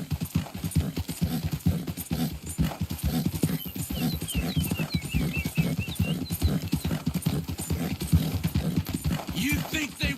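In Red Dead Redemption 2, horse hooves clip-clop in a steady rapid rhythm throughout, close and prominent, with birdsong in the background and characters talking over the riding.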